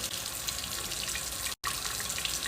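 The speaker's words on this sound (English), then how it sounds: "rinse your face with some water" Tap water runs steadily into a sink as a face is rinsed during a morning skincare routine, a continuous close splashing hiss with no talking.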